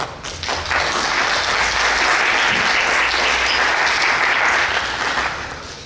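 Sustained audience applause fills a lecture hall at an academic event, a dense, even clapping that swells quickly and holds steady before tapering slightly at the end.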